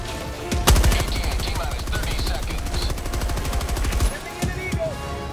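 Rapid automatic gunfire rattles in a video game bug fight, with a few heavier booming shots that fit grenade launcher fire standing out amid the steady burst.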